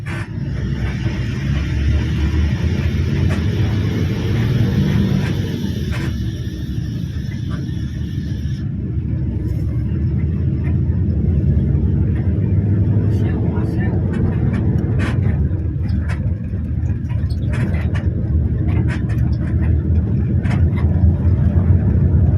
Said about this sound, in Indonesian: bus kembali melanjutkan perjalanan dan langsung menuju tujuan akhir ke terminal Kertawangunan